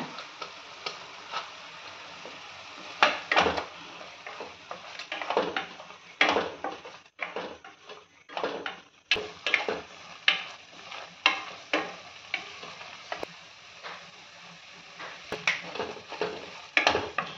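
Ground mint and green chili paste sautéing in a pan, a low sizzle under repeated sharp clicks and scrapes of a spoon stirring against the pan, with no voices.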